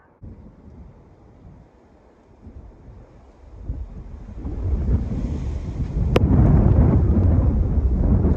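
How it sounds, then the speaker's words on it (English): Wind blowing outdoors at a spot by the water, a rough low rumble buffeting the microphone that starts moderate and grows steadily stronger and louder, with no talk. "The wind's starting to pick up though."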